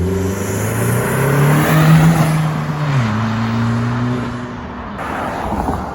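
A 2020 Honda Civic Si fitted with a PRL Cobra cold air intake pulls away under acceleration, engine note climbing steadily then shifting down in pitch around midway, loud and close with no talking.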